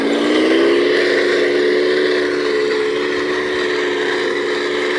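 Engines of an M1A2 Abrams tank model running, a steady, loud electric whine with a pitch that rises briefly at the start and then holds a constant drone, close and uninterrupted.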